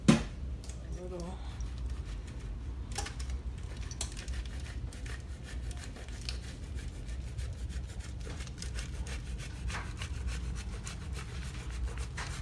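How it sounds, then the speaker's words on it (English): Parmesan cheese rubbed against a grater, a steady faint rasping scrape that runs continuously, with a few sharper knocks and quiet speech in the background. "And I'm gonna add some more Parmesan cheese to my grater."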